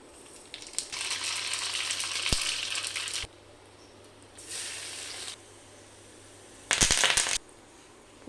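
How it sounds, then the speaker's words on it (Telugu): Tempering spices for a mango and brinjal dal crackle and hiss in hot oil in three separate bursts, with quieter pauses and a couple of sharp clicks between them. "పోపు అంతా చక్కగా వేగింది."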